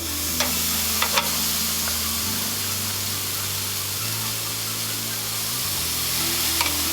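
Ribeye steaks sizzle steadily on a hot Chefman electric smokeless indoor grill, a continuous close frying hiss over a low appliance hum, with a few faint clicks and no talking.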